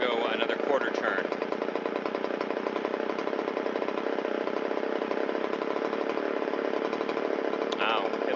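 A Shindaiwa 360 chainsaw, a repaired engine that had been sitting, runs steadily with a buzzing two-stroke drone close to the microphone, its revs climbing a little, with a voice speaking over it.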